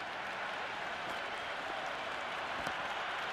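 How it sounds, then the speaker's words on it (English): Dense, steady crowd roar from a simulated stadium audience in the Cricket 26 video game during an India versus Afghanistan semi-final, a continuous broadband wash of cheering and applause with a brief sharp spike near the end. "It's evident and ever so audible that the crowd is at near bursting point at today's play."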